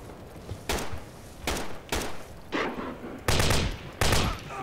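Gunfire in a World War II-style video game crackles in several sharp bursts, each a loud clustered volley with short pauses between, the last two heavier and longer.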